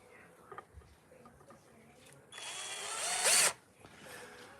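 A power drill runs during woodcarving, a single whirring burst of about a second that rises in pitch before cutting off, between quieter handling noises.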